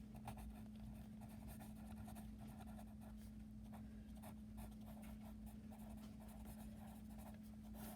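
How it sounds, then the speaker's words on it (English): A pen scratches on paper while drawing a regular hexagon for a geometry lesson, giving soft continuous strokes over a steady low electrical hum, with no talking. "let's draw a regular hexagon"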